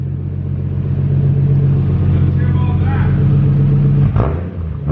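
A Toyota JZX100 with a titanium exhaust and muffler fitted idles with a loud, close, steady rumble, then gives a short rev just before the end.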